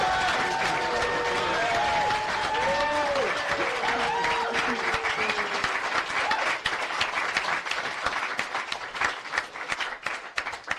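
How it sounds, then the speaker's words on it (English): Sustained audience applause at a live podcast recording, a dense wash of clapping from a sizable crowd with a few whoops early on, thinning slightly toward the end. "Let's give everyone a round of applause."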